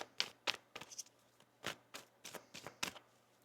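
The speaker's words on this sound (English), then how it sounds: "One more shuffle." Tarot cards being shuffled by hand, a quick series of soft, papery riffles and taps, close but quiet, with a faint steady hum beneath.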